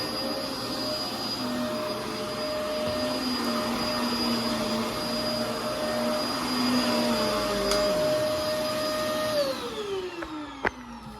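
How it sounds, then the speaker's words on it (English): A Hoover WindTunnel All-Terrain upright vacuum cleaner runs steadily and loudly on high power, a constant whirring drone with a brief pitch drop near the end and a sharp click just before it winds down. "when I use this vacuum, I always use it on its high power mode"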